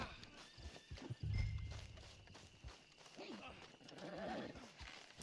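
A horse in the Red Dead Online video game, its hooves clip-clopping at a walking pace under steady talk, with a faint neigh.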